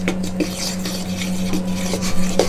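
A fork stirs and mashes butter into an apple crumble topping in a bowl, a steady, close series of soft scraping and rubbing strokes with light clicks, no talking.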